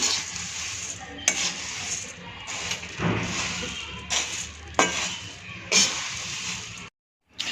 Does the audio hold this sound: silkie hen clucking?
no